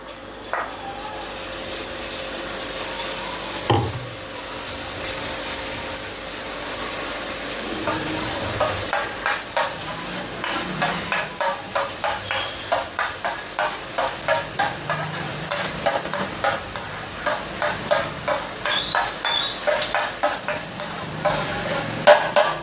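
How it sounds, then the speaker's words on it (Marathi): Salty boondi batter dropping through a perforated ladle into hot oil, a steady crackling sizzle with rhythmic tapping strokes growing more distinct toward the end, no voices. "आता हे जी बुंदी पाडणार आहे मी, खारी बुंदी।"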